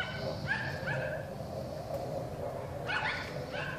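Neighbourhood dogs bark in short clustered bursts, with a brief lull between volleys and a faint steady background hum.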